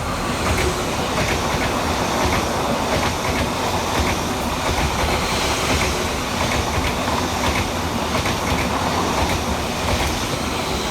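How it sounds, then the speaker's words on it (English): A Greater Anglia Class 745 electric train races fast through a station, a loud, steady roar of wheels and rushing air with a rhythmic clatter over rail joints for the whole stretch, nearby and without speech. "Passing fast through the station for Greater Anglia is 745-106, working 1 Bravo 78 from London Liverpool Street through to Stansted"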